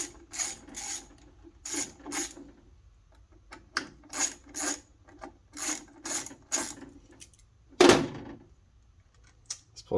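A ratchet clicks in short repeated bursts close up as it backs out the bolts on a Porsche GT steering wheel's airbag bracket, with pauses between strokes and one louder clunk partway through.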